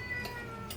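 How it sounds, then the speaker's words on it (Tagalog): A hungry house cat gives a couple of short meows, fairly faint and close, over a quiet room background. "Kaya yung pusa po namin dito, nagugutom na."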